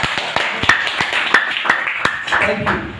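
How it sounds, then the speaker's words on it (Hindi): An audience claps at a talk in Madhubani, sharp separate claps landing in an irregular rhythm, fairly close, while a voice keeps speaking over them. "एक बार मेरी मैडम के लिए बहुत जोरदार तालियां।"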